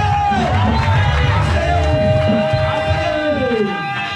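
A church congregation acclaiming the Lord, many voices shouting and cheering together as a loud, close crowd roar with rising and falling calls throughout.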